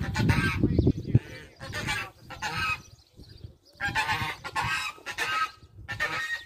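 Geese honking loudly in a farmyard on a frosty morning, repeated harsh bursts in uneven clusters with brief pauses, close and insistent like an alarm.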